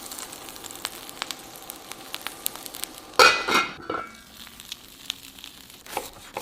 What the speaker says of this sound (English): With a cast iron pan over medium heat, we'll add our sandwiches.